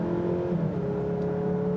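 The engine of a 2019 Mazda CX-9 Signature accelerating hard, heard from inside the cabin as a steady rising drone with engine tones climbing in pitch; no talk.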